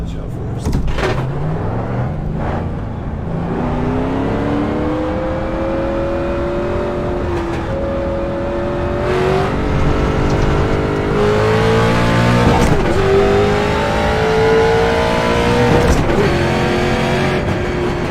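A race car engine in the iRacing simulator revs up and down in long rising and falling tones while the clutch is burned out, loud and sustained with a voice underneath.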